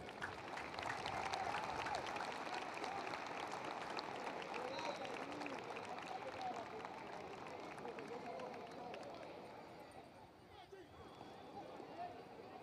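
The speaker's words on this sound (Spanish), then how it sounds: "vamos a aplaudir 4 veces a Wilkin Castillo" Stadium crowd applauding and cheering at a baseball tribute and number-retirement ceremony, a broad sustained wash of clapping that swells early then gradually fades, with a distant voice faintly audible.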